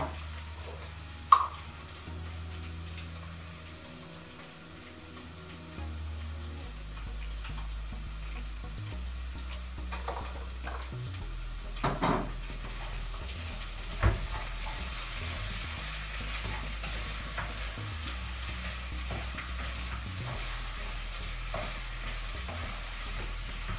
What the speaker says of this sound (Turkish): Şimdi patatesi ve havucumu da bu karışımın içine katacağım. Onları da birazcık çevireceğim.